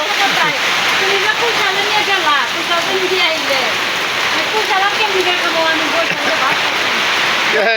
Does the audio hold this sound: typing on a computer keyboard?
no